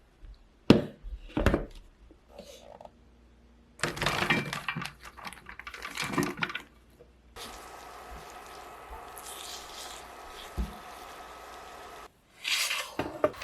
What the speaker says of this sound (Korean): 깨끗이 씻은 당근은 동그란 모양으로 얇게 썰어주시고요.